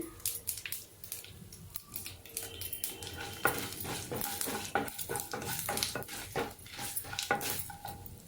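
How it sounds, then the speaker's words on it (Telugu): Oil tempering in a pan with chana dal and two torn chillies for onion spinach curry, a steady crackling sputter broken by the clink and scrape of a stirring spoon, fairly faint and with no talking. "పోపు కాస్త చిట్టుపట్టలాడాలండి రెండు మిరపకాయలు ఇలాగా తుంచి వేసుకుంటున్నామండి"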